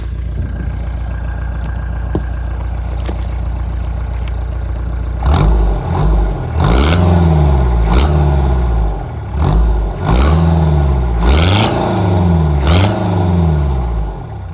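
An old Ford car engine idles steadily, then revs hard in a run of rising and falling surges, with a loud, close exhaust note from the back and no talk.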